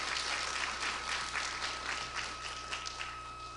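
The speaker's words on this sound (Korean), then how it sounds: "전략연구소장님에게 큰 박수 한번 보내주십시오." Audience at a parents' academy lecture on admissions and study strategy giving the strategy institute director a sustained round of applause, fairly soft and distant, slowly tapering off.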